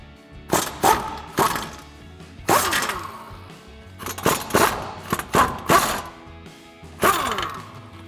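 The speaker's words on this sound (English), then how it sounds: "We'll go ahead and use our impact gun and our 15mm socket" An impact gun with a 15mm socket removing the caliper bolts on a Mustang: loud, close bursts of hammering rattle, several separate sharp blasts with short pauses between them in a garage setting.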